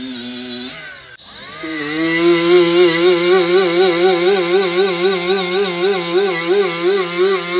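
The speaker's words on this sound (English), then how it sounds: "I'm just polishing everything out." A rotary tool with a felt abrasive and polishing compound on a quick mount polishes an aluminum cafe cowl fender light: a loud, close, high motor whine that dips, then runs with a wavering pitch as it bears on the metal.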